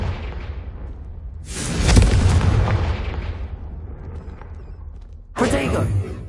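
Confringo blasting spell bursts in Hogwarts Legacy on PS5, with two heavy booming explosions, the first a long rolling blast fading slowly and the second an abrupt loud burst near the end.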